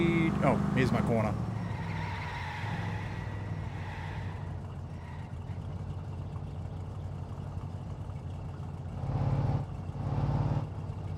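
A steady, loud car engine rumbles through a driving session in the game My Summer Car, holding a continuous low drone for the whole stretch, with a brief louder surge near the end and some voice at the start.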